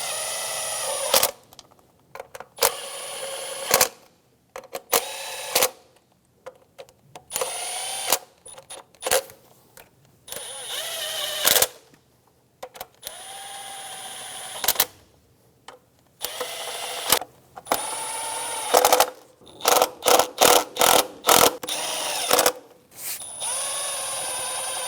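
A power tool snugs down the valve cover bolts on a 2003-2007 Infiniti G35, with many short whirring bursts separated by pauses, turning into quick repeated pulses near the end, close and loud with no talk.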